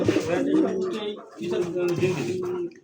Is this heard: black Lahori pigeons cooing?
yes